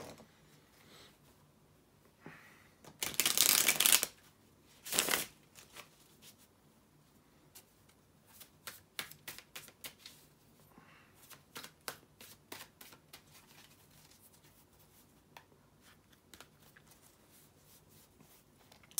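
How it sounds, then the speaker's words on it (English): A deck of tarot cards being shuffled close by in a quiet room, with two loud riffling bursts early on followed by many soft, scattered taps and flicks as the cards are handled. "shuffle the tarot cards"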